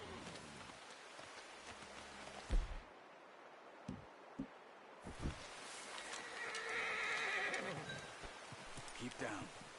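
A horse whinnies loudly amid outdoor ambience in the video game Red Dead Redemption, with hooves and rustling, then a steady hiss like rain and a faint high chirping near the end.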